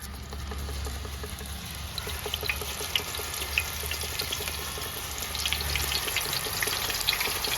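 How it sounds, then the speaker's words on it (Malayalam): Sliced raw banana being deep-fried in oil for Onam banana chips, a steady close sizzle and crackle with scattered pops throughout, no talking. "നമ്മൾ രണ്ട് സെക്ഷനായിട്ടാണ് ഇന്ന് ഉപ്പേരി വറുത്തിരിക്കുന്നത്"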